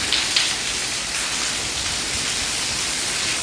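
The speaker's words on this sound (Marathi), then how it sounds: "कसा मस्त पाऊस पडत आहे पहा." Steady light rain falls continuously, a dense even patter with no voices.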